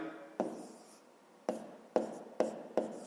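A pen writes by hand on paper during a fifth-grade maths exercise, with quiet scratchy strokes and five distinct taps as new marks begin, close and soft with no talking.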